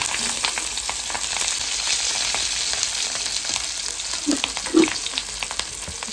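Kerala-style fish wrapped in banana leaf fries in a covered pan, giving a loud, steady sizzle close by with a couple of soft knocks near the end and no speech.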